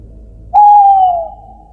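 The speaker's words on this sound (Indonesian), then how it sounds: "Suara burung hantu." An owl gives a single clear, loud hoot, steady and slightly falling in pitch, held for under a second over a low background rumble, with no voices.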